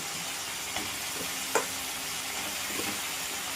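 Ash gourd pieces go into a frying pan with slit green chillies and tomato, giving a steady soft sizzle with a few light clinks of stirring and one sharper tap.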